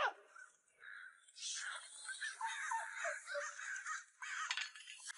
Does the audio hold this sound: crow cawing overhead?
yes